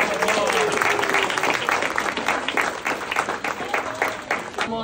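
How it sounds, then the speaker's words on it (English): An audience at a special needs fashion show breaks into steady, fairly loud clapping that fills the room for several seconds. "Give him a big round of applause."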